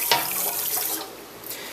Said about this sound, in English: I'm just going to add the 2 cups of kosher salt to the water.